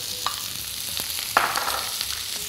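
Onions frying in avocado oil in a hot pan, a steady soft sizzle with a few brief stirring clatters, close and moderately quiet, no talking.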